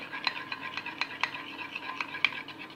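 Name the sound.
stirring butter mixture in a mug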